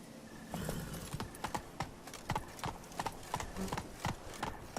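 Roach the horse gallops in The Witcher 3, hooves pounding in a quick steady clip-clop rhythm close up, continuous across the clip with soft ambient game sound behind.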